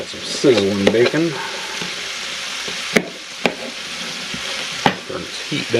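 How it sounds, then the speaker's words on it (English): Bacon sizzles and crackles steadily in a hot cast iron pan, with a few sharp pops and clinks over the constant frying hiss and no speech. "And we got some sizzling bacon."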